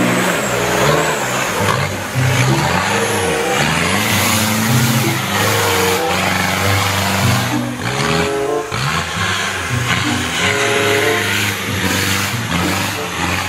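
A yellow toy off-road car gives out a loud electronic engine effect: revving, sweeping engine tones that rise and fall repeatedly over several seconds, played alone with no talking.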